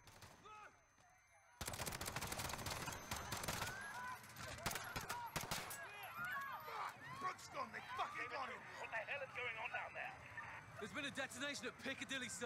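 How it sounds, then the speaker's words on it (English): Heavy gunfire erupts in Call of Duty: Modern Warfare during a street battle at Piccadilly Circus, London, with dense automatic bursts and single cracks after a quiet start. Shouting voices mix into the shooting. "At Piccadilly Circus, shots fired, officers down."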